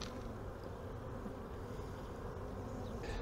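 A dense, steady buzzing of many honeybees at a Langstroth hive fills the clip, low and continuous with no voices.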